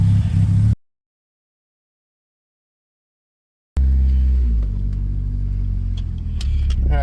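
A 2000 Nissan Silvia S15 Yashio Factory build rumbles low and steady as it drives. A brief burst of engine is followed by a dead silent gap, then the continuous deep engine drone returns up close.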